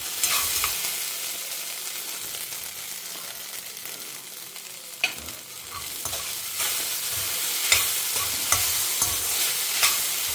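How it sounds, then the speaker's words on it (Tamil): Okra (ladies' finger) sautéing in a pan at home, a gentle continuous sizzle broken by repeated spatula scrapes and stirring strokes, close and alone, growing a little busier toward the end. "ஒரு 2 நிமிஷம் வதக்கிட்டு ஆஃப் பண்ணிட்டோன்னா வெண்டைக்காய் வதக்கல் ரெடி"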